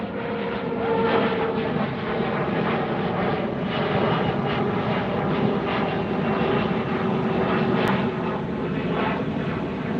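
An American Airlines jet airliner passes near LAX by the beach, its engines a steady, loud broadband roar that holds for the whole stretch with no voices over it.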